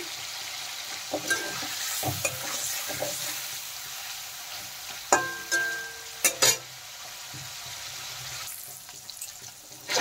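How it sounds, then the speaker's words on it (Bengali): Salted paneer pieces frying in oil left from frying potatoes and pointed gourd, giving a soft sizzle broken by a few sharp utensil clinks and scrapes, fairly quiet and close. "পনিরগুলো আমি ভালোভাবে ভেজে নেব।"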